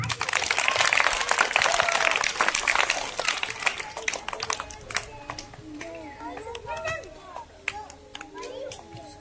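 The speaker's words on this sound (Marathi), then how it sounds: "सगळ्यांनी टाळ्या वाजवा." Audience at a women's club felicitation ceremony clapping in a dense, loud burst for about four seconds before it fades into crowd chatter and children's voices.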